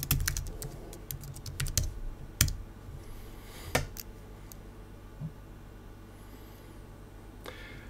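A burst of rapid keyboard typing as a password is entered at a computer, clustered clicks at first, then a few isolated keystrokes spaced apart over a quiet room hum.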